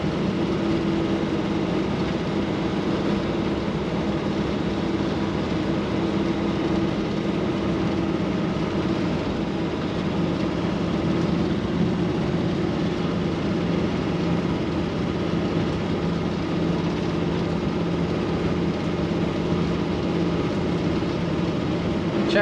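A 1936 Ford Deluxe Cabriolet with a vintage flathead engine running, a steady, even low hum and rumble holding a constant pitch throughout without revving or pauses.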